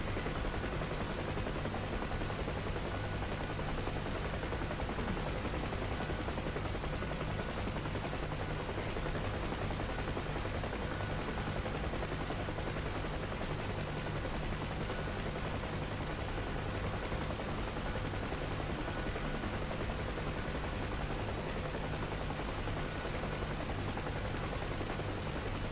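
A Bell UH-1 Huey helicopter in the DCS combat flight simulator, maneuvering low over a runway: a constant, dense rotor-and-engine roar that holds unchanged throughout, loud and close, with no talking.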